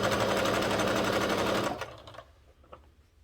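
A sewing machine runs a zigzag stitch on a reversible bucket hat, a loud rapid mechanical whirr that stops after under two seconds, leaving a few faint clicks.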